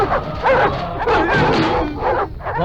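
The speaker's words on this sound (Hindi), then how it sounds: "भौंकना बंद कर" A dog barks and yelps in a heated confrontation, several loud close barks and whimpers overlapping shouting voices and dramatic film sound, continuous and dense across the moment.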